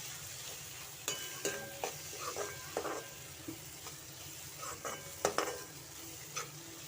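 Masala with tomato and onion stirred in a pan for a brinjal gravy; soft, irregular scraping and clinking strokes sit over a faint sizzle and quiet background music.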